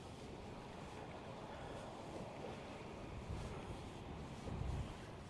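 Strong wind gusts across open water during a kayak outing with a Mirage Drive and Boonedox rudder, a steady broadband roar with buffeting on the microphone and low water sloshing, with no voices.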